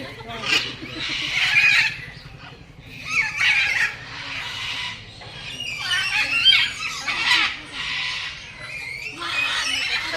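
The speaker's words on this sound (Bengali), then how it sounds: "পাখিরা খেপে গেছে, বিশাল জোরে জোরে আওয়াজ দিচ্ছে" A flock of agitated birds in a park squawks and shrieks loudly in repeated overlapping bursts, with a steady low hum underneath.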